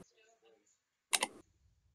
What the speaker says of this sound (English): Oh god, Waffleberg's typing